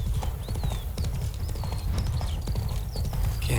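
Roach, the horse from The Witcher 3, gallops with a rapid, rhythmic clatter of hooves, loud and close, while birds chirp and whistle faintly in the background.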